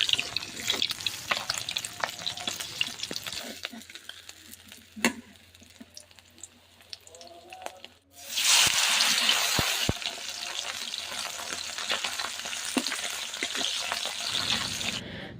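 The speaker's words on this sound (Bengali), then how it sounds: "এখন গরম তেলে জাস্ট ভেজে নিচ্ছি খুব তাড়াতাড়ি কয়েক মিনিটের মধ্যে কিন্তু এই আমোদি মাছটা ভাজা হয়ে যায়" Amudi fish frying in hot oil, cooked village style: a steady bubbling sizzle that swells into a loud, bright hiss partway through, then settles into continuous crackling with faint stirring.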